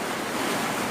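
Sea waves break on a beach in a broad, continuous rush of surf, loud and close, with wind noise in the mix and no voices.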